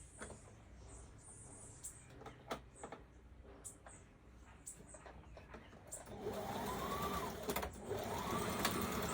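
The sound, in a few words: sewing machine stitching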